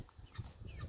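Soft, close chicken clucking in short murmuring bursts over a low background rumble.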